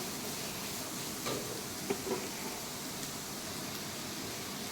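Vegetables with a pinch of salt sautéing in a pan give off a steady, even sizzle with no talking, broken by a few faint clicks and stirring taps.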